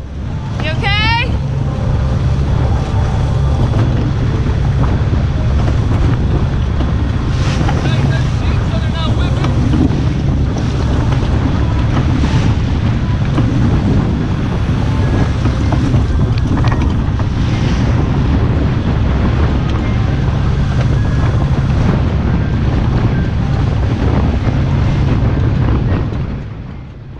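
Strong 18-knot wind roars across a sailboat crossing the Gulf Stream, a loud continuous rush with buffeting and water noise throughout, voices faintly mixed in.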